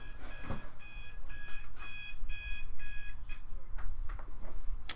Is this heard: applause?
no